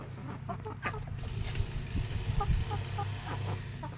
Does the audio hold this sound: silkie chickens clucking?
yes